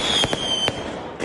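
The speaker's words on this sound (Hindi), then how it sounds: "आतिशबाजी से आसमान नहा गया।" Fireworks burst at a wedding henna ceremony, three or four sharp cracks in quick succession over a steady wash of outdoor crowd noise and a faint high whine.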